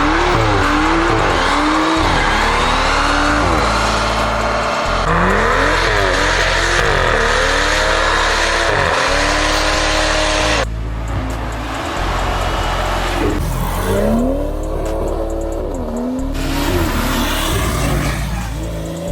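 A BMW M140i hot hatch with the B58 engine revs hard through repeated gear changes, its loud, close engine note rising and dropping sharply several times over nearly twenty seconds with no talk over it.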